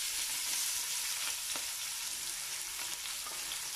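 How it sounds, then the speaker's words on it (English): Mince curry frying in a pan, a steady close hiss of sizzling with scattered sharp spatter pops throughout, no voices over it. "look at that spattering away"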